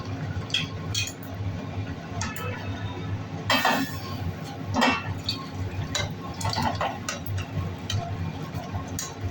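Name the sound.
pouring finished potol chingri curry into a dish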